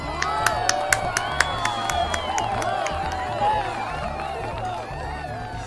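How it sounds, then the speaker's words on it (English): In Final Fantasy XIV, a game crowd at a fashion contest cheers and claps steadily under game music, with sharp sparkle-like clicks scattered through the dense, lively noise. "let us conclude by giving one more round of applause to our first place fashionistas, Maribel and Baby."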